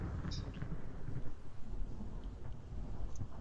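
Steady rain with a low, continuous rumble of distant thunder, a dense, even wash of storm noise with no voices.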